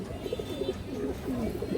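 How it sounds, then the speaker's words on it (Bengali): A large, restless black-necked female pigeon with pearl eyes gives a run of low, wavering coos, close up and quiet, over faint background noise. "পাথর চোখের একটা কালো গলা মাদি কবুতর"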